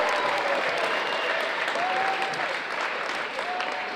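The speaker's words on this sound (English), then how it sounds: "Please give a warm round of applause for number 24, the Drake Silbernagel." Audience applause for number 24, a senior volleyball player, at a men's volleyball match against Concordia Irvine; steady, sustained clapping from a crowd in a gym, even in level throughout with faint tonal sounds above it.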